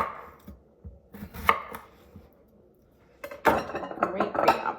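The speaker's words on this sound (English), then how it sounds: "I like to cut these up because these are good like snacking cucumbers" A knife chops crisp snacking cucumbers on a cutting board, with a cluster of sharp cuts near the start and a denser run of quick chops near the end, close and fairly clear.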